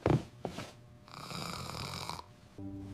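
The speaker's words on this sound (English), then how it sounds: "And he's snoring again." A man lying on his back snores in slow, rasping breaths, a low rattle followed by a long hissing drawl and then another rough inhale, fairly quiet and close with no talking.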